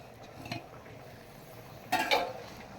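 A spoon stirs pumpkin buttermilk curry (mor kuzhambu) in a pot: a faint scrape early on, then a clearer clatter of the spoon against the pot, quiet and close with no talk.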